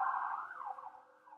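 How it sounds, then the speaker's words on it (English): Ambulance siren passing outside, a wavering electronic tone heard muffled through walls, sliding in pitch and fading over under two seconds. "Sorry, there's an ambulance outside."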